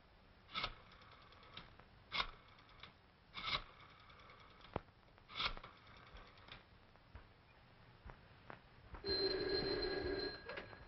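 An old-fashioned telephone bell rings in several short bursts at intervals in an office, fairly close and clear, with a longer steady ring near the end.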